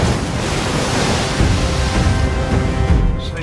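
At sea off Alaska, waves crash against a crab fishing boat in a loud, continuous wash with heavy surges and buffeting wind noise, and no speech.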